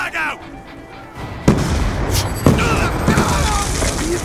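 Frag grenade explosions in Call of Duty Black Ops 2, with two sharp loud booms about a second apart amid ongoing gunfire and battle noise, and voices over the action.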